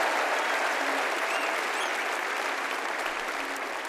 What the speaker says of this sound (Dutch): Goed applaus